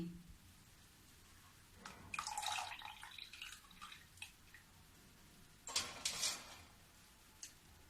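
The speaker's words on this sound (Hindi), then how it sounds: "मैं जो बर्फ के पानी में मटर डाली हूँ उसको छान लेती हूँ" Peas are strained out of ice water in a home kitchen, giving two short bursts of splashing and trickling water with a few faint drips between them.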